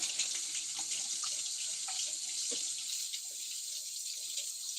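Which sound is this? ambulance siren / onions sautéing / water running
water running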